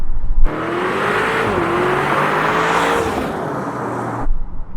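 A 2025 Audi SQ8 engine revs hard during a manual downshift into first gear, a loud rising whine under wind and road roar that holds for several seconds before dropping away.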